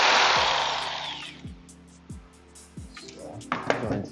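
Jigsaw cutting wood for a desk riser, a loud buzzing cut that fades out over the first second and a half, followed by scattered knocks and clatter of the workpiece being handled, with a brief sharp rattle near the end.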